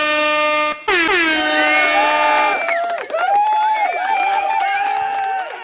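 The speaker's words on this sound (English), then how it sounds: "Round of applause and air horns" A loud, blaring air horn sounds in a long sustained blast, cuts briefly, then resumes with wavering, wobbling pitch as a crowd-like noise rises underneath.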